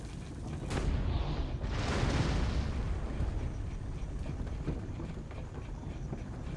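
Cannon fire from Leonardo's medieval tank in Assassin's Creed Brotherhood: a couple of deep booming blasts early on, followed by a rumbling, rolling engine-like roar that continues steadily.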